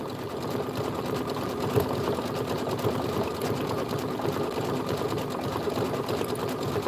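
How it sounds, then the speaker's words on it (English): Embroidery sewing machine stitching an outer pull loop fill in buttercup thread, a fast, steady, close mechanical whir and chatter running continuously without pause. "you're going to stitch the outer pull loop fill right here, number 6, and buttercup."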